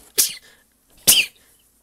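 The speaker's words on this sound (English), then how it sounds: "That was me sneezing." Two sharp sneezes from a person, about a second apart, close and loud with short silence between them.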